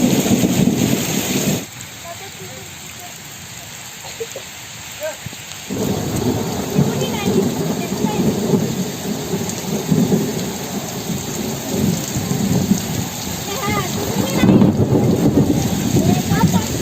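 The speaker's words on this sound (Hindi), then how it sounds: "बहुत ही ज़ोरों की बारिश हो रही है। ये मूसलाधार बारिश से भी ज़्यादा तेज़ है ये।" Torrential monsoon rain pours down on a village home near the India–Pakistan border, a loud, dense roar that fills the whole stretch, with thunder rumbling low underneath.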